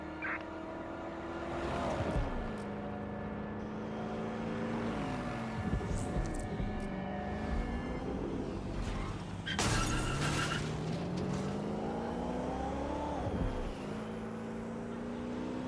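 A car engine in the video game Watch Dogs Legion revs hard through a chase, its pitch climbing and dropping repeatedly as gears shift, with sharp impacts and scraping bursts cutting through the roaring motor.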